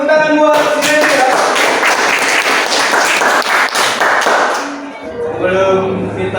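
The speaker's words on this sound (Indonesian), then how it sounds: "Terima kasih buat tepuk tangan buat Randy ya" Classroom applause in an Indonesian school lesson: loud, close clapping from a group of students for several seconds that tapers off as a teacher starts talking.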